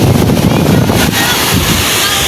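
Calm sea surf washes against a rocky shore on a sunny day, a continuous broadband wash mixed with heavy wind buffeting on the microphone.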